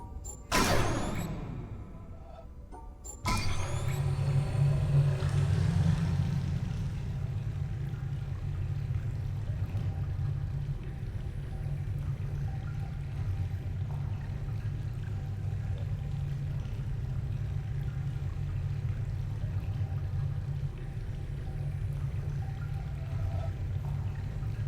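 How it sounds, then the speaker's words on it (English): Water level rising in a ruin in The Witness puzzle game, a low steady rushing and mechanical rumble that swells after a brief opening clunk and then holds loud and even throughout, with no talk. "I need the water level raised"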